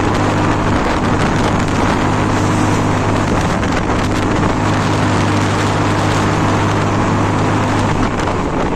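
A Mondial Prostreet 125 motorcycle engine labors up a ramp on a rough road at part throttle, a steady loud droning hum with heavy wind rush over the microphone throughout.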